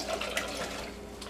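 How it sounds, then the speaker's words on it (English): Two cups of water poured into a homemade barbecue sauce mix of spices and onion powder, a brief, steady close splashing rush without talk. "And then 2 cups of water."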